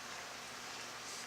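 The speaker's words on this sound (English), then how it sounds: "It's raining now." In-game rain falling outside a pavilion, a steady, dense hiss of drops that holds evenly throughout with no voices.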